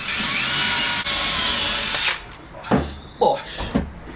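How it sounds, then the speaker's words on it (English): A power drill whines steadily for about two seconds, then stops; a few short bursts and knocks follow as it bites into wood, close and loud. "there is a small indent that will show you where you need to drill"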